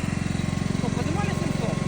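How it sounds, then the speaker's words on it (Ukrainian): A small tractor loader's engine chugs in a steady, fast rhythmic throb, close and loud, running continuously while someone talks over it. "ось цей тракторець може підняти 700 кілограм"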